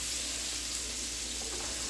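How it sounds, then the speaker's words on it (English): Mushrooms and onions sauté in a hot pan, giving a loud, steady sizzle with a constant bright hiss close up and no speech. "Get my mushrooms sauteed with the onions."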